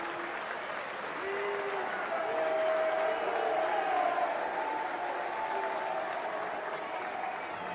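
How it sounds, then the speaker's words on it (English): Football crowd at a Nottingham Forest v Newcastle United women's league match gives a steady roaring cheer that swells slightly in the middle, with faint whistles and voices rising above the broad wash of noise. "The crowd don't need much invitation to get into it, do they?"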